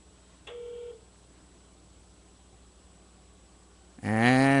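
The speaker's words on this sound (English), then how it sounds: "And the phone is ringing." During a phone call, a single half-second ringback tone sounds faintly over line hiss, followed by a long quiet stretch before a louder voice cuts in at the end.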